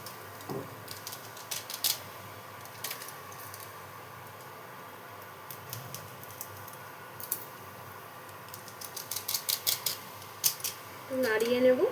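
Two Maggi masala packets are snipped open with scissors in a series of quick, sharp clicks and crinkles that grow busier toward the end, close by over a steady background hum.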